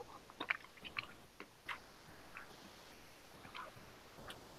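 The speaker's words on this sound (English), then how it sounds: "I'm eating sunflower seeds." A person chews sunflower seeds close to the microphone, faint irregular cracking and crunching bites over a low background hiss.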